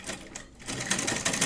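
A sewing machine runs steadily, stitching a choli for a deity's outfit, its rapid needle clatter close and continuous with a brief dip before picking up again.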